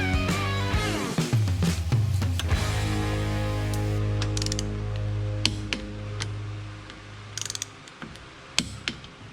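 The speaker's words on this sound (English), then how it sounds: "Now we can reinstall the brake caliper and torque that down to 28 to" Ratcheting and clicking from a torque wrench tightening brake caliper bolts on a 2021 Harley-Davidson Road Glide's front end, with a steady low hum behind the close, sharp clicks and a few isolated ticks near the end.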